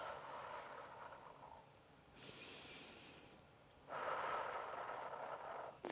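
A person breathes deeply and slowly during a relaxation stretch, with two long, soft breaths through the mouth, close and quiet, separated by stillness.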